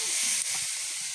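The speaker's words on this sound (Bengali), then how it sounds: "এই যে দেখো একটু করে ভাজা ভাজা করছি।" Brinjal and fenugreek leaves fry in a pan with a bright, steady sizzling hiss, close and unbroken for just over a second, with no voices.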